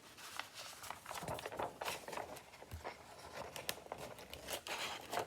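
Scissors cutting paper for a paper craft recipe apron, with crisp snips and crinkling rustles repeating in an irregular rhythm, close and fairly quiet.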